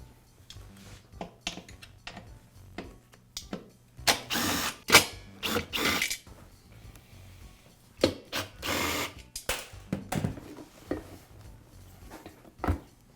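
Motor and pump assembly is pulled from a Porter Cable air compressor tank, giving a series of close metallic clanks, clicks and rattles in irregular bursts with quiet gaps between them.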